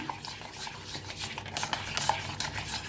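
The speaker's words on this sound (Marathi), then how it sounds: "आता छान असं मिक्स करून घ्यायचं ना." A spoon stirs a thick shrikhand mixture with saffron in a bowl, producing soft, repeated scraping and squelching strokes, close up and quiet, with no talking.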